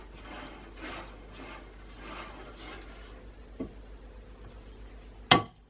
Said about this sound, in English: And now I'm just going to scrape down the sides of my mixing bowl.